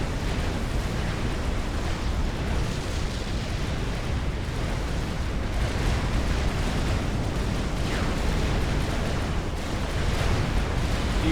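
Dense, continuous barrage of artillery fire and explosions in a Supreme Commander 2v2v2 real-time strategy battle on The Dark Heart map, loud rumbling booms layered without pause for the whole stretch.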